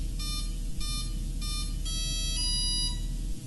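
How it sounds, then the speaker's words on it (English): A series of repeated electronic beeps in quick succession from an RC boat confirming connection after its battery is plugged in, loud and close, sounding over a steady low hum. "You'll hear a series of beeps"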